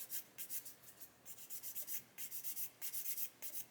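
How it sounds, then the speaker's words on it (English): Quiet, rhythmic scratchy rubbing strokes, short and repeated in quick bursts, as a small sanding stick is worked back and forth over a plastic scale-model part close by. "we'll just grab a sanding stick"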